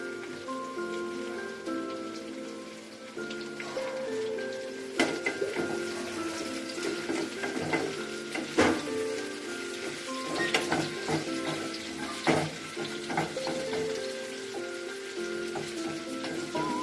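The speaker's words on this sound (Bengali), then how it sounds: "বেশি ফ্রাই কিন্তু করা হয় না, হালকাই ফ্রাই হয়" Chopped capsicum and onions fry lightly in a pan for chilli paneer, giving a steady crackling sizzle with occasional louder stirring clatters and spatters.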